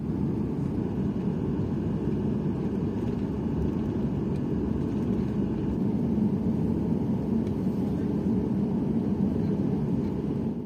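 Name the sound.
airliner taxiing at Nanchang Changbei International Airport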